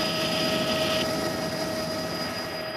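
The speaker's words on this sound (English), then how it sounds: "The average speed of the helicopter is just under 200 kilometers an hour." A tourist helicopter in flight gives a loud, steady rotor and engine roar with a constant hiss that runs without a break and has no voices over it.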